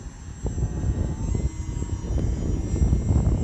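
A Hobbyzone Aeroscout RC model airplane's electric motor drones steadily at about a third to half throttle in flight, a continuous buzzing whir under outdoor wind noise with no talking.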